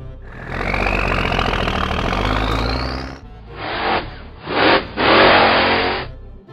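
A pink toy monster truck's engine revving, a loud rising roar followed by several separate throttle bursts, close and without talk.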